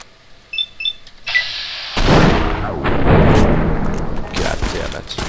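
Fallout: New Vegas gunfire, a few faint clicks and beeps at first, then a loud blast that opens into sustained crackling, booming shots and echoing impacts, with a voice talking over part of it.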